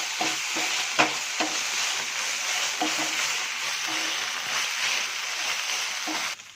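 An egg noodle mixture with pepper powder and tomato sauce is stirred in a pan with a soft, steady frying hiss. A utensil scrapes in a loose, repeated rhythm, close by, until a sudden stop at the end.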